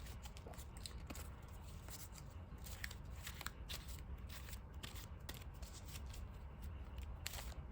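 A deck of Digimon trading cards is shuffled by hand, quiet rapid riffling and snapping clicks repeating steadily and close, with no speech.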